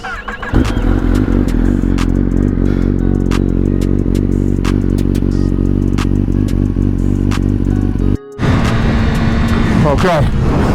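A Kawasaki H2 motorcycle is ridden and revved, its engine droning loud and steady throughout with strong harmonic tones, cutting out briefly near the end before a rougher, rising note returns.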